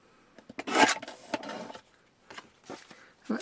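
A paper trimmer cuts card for a folio with a few close, quiet scraping and rasping strokes, separated by short pauses.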